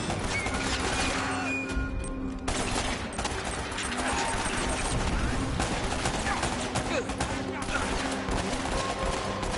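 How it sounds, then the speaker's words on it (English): Sustained gunfire from a firefight in the Uncharted video game, with bursts and crackling shots filling the whole stretch loudly and nearly continuously, a voice talking faintly underneath. "I don't even see where they're shooting from"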